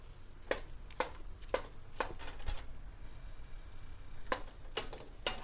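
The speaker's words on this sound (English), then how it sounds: "It's going to melt fast, so just keep mixing it." A spoon scraping and stirring melting marshmallow in a pot, soft rhythmic taps and scrapes about every half second over a quiet, steady low hiss.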